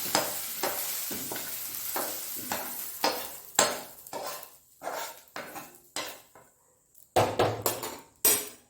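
Vegetables for brinjal kosthu sautéing in a pan, with repeated loud scraping stirs of a spoon against the metal and a soft sizzle between them, in uneven bursts with brief quiet gaps.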